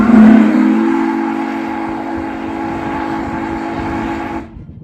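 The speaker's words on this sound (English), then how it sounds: "we took the whistle up to the Virginia and Truckee Railroad for a steam test of the new valve" A loud steam whistle, a rebuilt Hancock Long Bell whistle for Union Pacific 3985, blows one long sustained chord during a steam test, starting strong and holding for about four seconds before cutting off abruptly.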